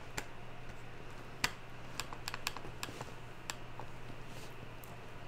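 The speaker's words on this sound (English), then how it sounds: "I know you guys can hear all that tapping" Fingers tap on a computer keyboard with scattered, irregular clicks, some in quick bursts, fairly quiet over a steady low hum.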